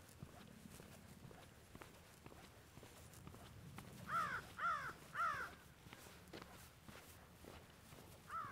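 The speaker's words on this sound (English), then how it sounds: "I think this is a crow." A crow in the Florida Everglades at Shark Valley caws three times in quick succession near the middle, then once more at the end, moderately loud over a quiet background of footsteps on a path.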